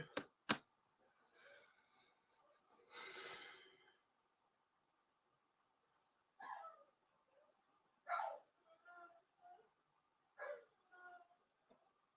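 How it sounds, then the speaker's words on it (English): Small dogs whimpering and yipping in a quiet room, with short high cries and soft whines coming in scattered bursts between pauses, fairly close and moderately loud. "my dogs are crying"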